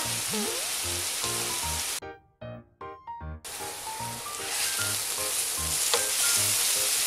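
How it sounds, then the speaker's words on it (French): Onion frying in a pan for a braised ham in Basque sauce, a dense steady sizzle with stirring scrapes and soft thumps, briefly dropping out before resuming loud and close. "L'oignon, je vais le faire griller un petit peu."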